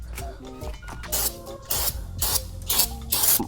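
Brake cleaner hisses in several short sprays onto a front brake rotor of a K20-swapped Honda Civic fitted with DC5 Brembo brakes, a close, breathy rush repeating in bursts with brief gaps between.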